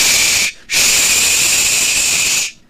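A voice imitates the hiss of a pressure cooker, giving two loud, close breathy hisses: a short burst, a brief break, then a longer sustained hiss that cuts off.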